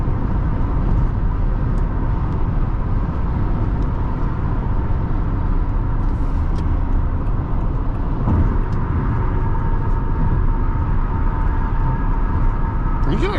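A 2010 Toyota Camry LE with the 2.5 engine pulls steadily along the road, its engine drone and road noise holding constant and loud from inside the cabin, with no clear rise in pitch.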